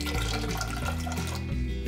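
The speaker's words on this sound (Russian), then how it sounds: "Залью их холодной водой, чтобы немного остыли." Cold water pours steadily over freshly boiled eggs in a pot, a continuous close splashing gush with no pause, no voices, in a home kitchen while cooking buckwheat porridge.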